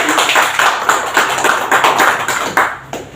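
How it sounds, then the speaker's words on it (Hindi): Audience clapping loudly to welcome a guest at a reception ceremony in Umargam, a dense, steady patter of many hands continuing throughout with no talking. "है जोरदार तालियों के साथ।"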